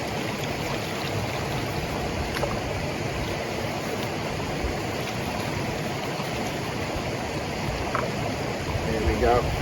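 Water sloshing gravel and stones through a sieve on a final wash while panning for gold and minerals outdoors, a continuous loud rushing, splashing wash that swells slightly at the end.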